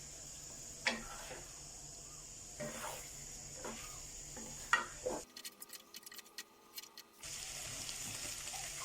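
Bamboo shoots stir-fried with fish in a pan without oil: scattered scraping and clinking of a utensil against the pan, quiet and close, with a short break in the middle before the cooking noise resumes.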